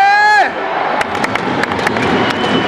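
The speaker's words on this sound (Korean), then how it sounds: "함성을 보내면서 우리 선수를 응원하고 있습니다" A stadium crowd roars in support of the Korean side at a football match against France, a broad rumbling cheer with scattered sharper shouts. A brief tonal blast opens it, and a voice may be talking over the noise.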